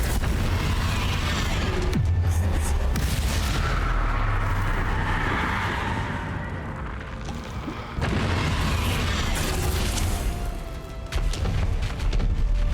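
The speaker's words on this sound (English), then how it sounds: "Confringo. Defender. Bombarda." Bombarda blasting spells in the Hogwarts Legacy video game go off as a loud, dense run of booming explosions and impacts. Several sharp bursts land over a constant rumble of battle noise, with a brief lull before the blasts pick up again.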